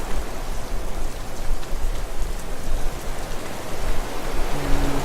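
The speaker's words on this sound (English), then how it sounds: "I don't remember it ever raining quite this hard." Heavy rain in the Starforge video game, a dense, steady roar of downpour filling the whole clip at constant loudness with no talk over it.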